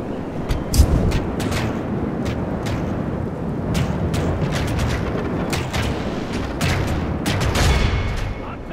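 A volley of musket fire in a Total War battle set in the Elder Scrolls world, with many overlapping sharp cracks spread across several seconds over a dense, loud rumble of battle.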